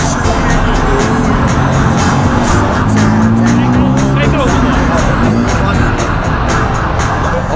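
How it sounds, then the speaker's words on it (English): Dense, loud city street traffic in Bangkok, with engines and vehicles passing close by, a tire squeal partway through, and a continuous roar with no pauses. "As you see, traffic, noisy."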